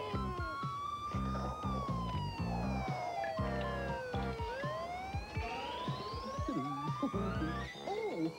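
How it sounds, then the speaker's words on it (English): A toy ambulance siren wailing in rising and falling sweeps, fairly loud and close, layered with brassy melodic music and brief voices. "That's the toy ambulance."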